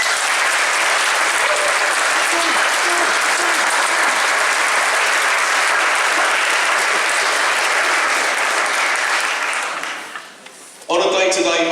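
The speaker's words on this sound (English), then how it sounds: "I'd like you to show your appreciation, a round of applause for all of us" A hall audience at a Christmas band concert gives a loud, sustained round of applause that swells, then tapers off near the end before a brief burst of other sound.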